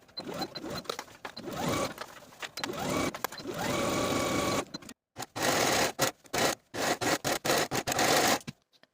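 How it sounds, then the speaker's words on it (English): A sewing machine stitches a 5/8 inch seam along the center curve of a pair of shorts, running in bursts of rapid mechanical whirring, first a long run and then a series of short stop-start spurts, close up. "Now I'm going to take this to the sewing machine and sew this center curve with a 5/8 inch seam allowance"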